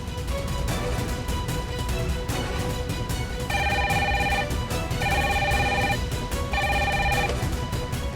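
A telephone rings in a Hindi TV serial scene, its electronic trilling tone sounding in repeated bursts over a steady backdrop of background music, loud and close throughout with no talking.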